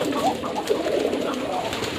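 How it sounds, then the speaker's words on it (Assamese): Pigeons coo softly in a pigeon farm in a low, continuous murmur of several birds close by, with faint human voice traces mixed in. "চাওক ইয়াতেও আছে পাৰ চৰাই"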